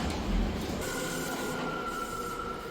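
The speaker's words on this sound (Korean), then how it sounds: "뉴욕 지하철을 타고 이동합니다." A New York City subway train carries riders uptown from Brooklyn to Manhattan, its steady rumble of wheels on rail filling the car with a continuous near roar and a thin metallic whine riding on top.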